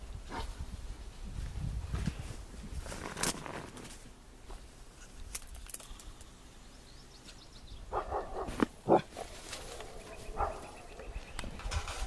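Dog barking on a farm, startled by a bear, with a few barks standing out over outdoor ambience and birds, louder bursts near the end.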